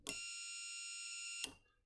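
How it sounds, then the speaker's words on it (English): Buzzer on an electronics test board sounding as a single continuous high-pitched electronic tone lasting about a second and a half, bracketed by short clicks, clear and close with no talk. "your buzzer should go on."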